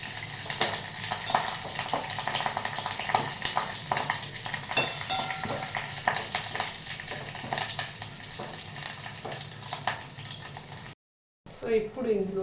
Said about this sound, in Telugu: ఈ వెల్లుల్లి కలర్ మారే వరకు కొంచెం వేడిద్దాం.